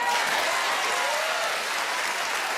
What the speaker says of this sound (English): Clap a little louder, everybody.